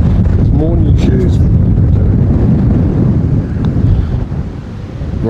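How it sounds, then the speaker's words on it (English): A strong gust of wind buffets the microphone on a golf course, a loud, steady low roar across the whole clip with faint voices underneath. "A gust of wind, Richo, and that is off the green."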